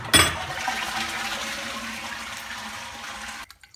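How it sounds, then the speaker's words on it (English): A toilet flushes with a sharp gush, then its cistern refills through a tap-less sink mounted in the wall above, a steady close rush of running water that cuts off abruptly near the end. "So if I flush this toilet,"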